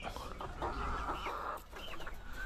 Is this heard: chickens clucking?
yes